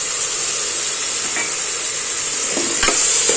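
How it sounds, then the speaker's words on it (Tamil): Onions sautéing in a hot pan, a loud, steady sizzle and hiss close by with occasional scrapes and clinks as a spoon stirs them, no talking. "வதங்கிக்கிட்டே இருக்கட்டும். நல்லா வதங்க தான் டேஸ்ட்டு"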